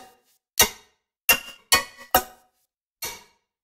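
A high-pitched, tight synth patch processed through Quanta plays five short, bright plucked hits with brief tails, spaced unevenly with a gap before the last. It is clean and close, with no voices.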